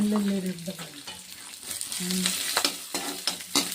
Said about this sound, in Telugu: నీట్గా ఫ్రై చేసుకోవాలి.